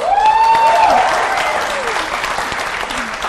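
A studio audience at a televised dating show claps loudly and steadily, the applause filling the whole stretch while a brief musical tone and cheers rise over it.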